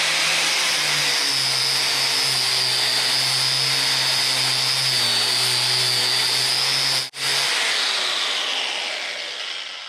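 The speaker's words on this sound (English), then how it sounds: "I'm going to strip all the paint off of this steel and get ready to weld it up." A spinning wire wheel strips paint from steel, a steady high whining hiss over a low motor hum that cuts out briefly and then resumes, continuous and fairly close.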